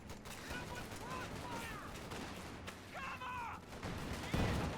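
A tank force-firing in Company of Heroes 2 sends out repeated gunshots and battle rumble at moderate distance, blended with other combat noise while a commentator talks over it.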